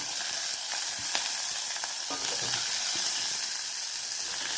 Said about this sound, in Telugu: ఇదిగో ఉల్లిపాయలు కొంచెం వేగాలి